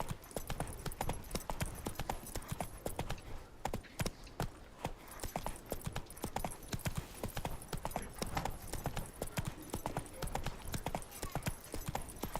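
Roach the horse gallops in The Witcher 3, a steady, fast clatter of hooves that runs continuously and fairly close throughout, with faint background game sound and occasional brief speech.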